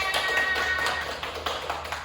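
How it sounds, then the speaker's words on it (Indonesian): A classroom of students clapping their hands together, a dense patter of many overlapping claps held fairly steady at close range before thinning slightly toward the end. "Oke, tepuk tangan semuanya"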